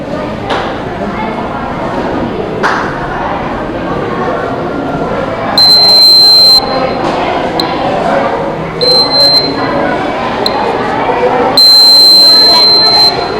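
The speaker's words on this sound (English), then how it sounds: "the buzzer sound started ringing" A shrill electronic buzzer from an ultrasonic sensor alarm sounds in several bursts, some long and some short, over a noisy school exhibition room with background chatter.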